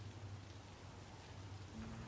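Steady rain falls in a city street in the video game Cyberpunk 2077 Phantom Liberty, a soft continuous hiss with a low rumbling hum underneath, constant and even throughout.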